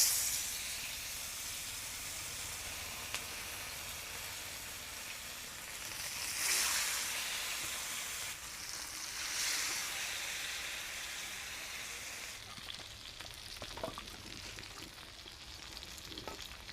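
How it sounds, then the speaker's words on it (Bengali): Fish pieces frying in hot mustard oil on a tawa, a loud continuous sizzle and crackle that swells as pieces are moved, with occasional light scrapes and taps, no voices. "এবারে মাছগুলো আমি তাওয়ার মধ্যে দিয়ে দিব,"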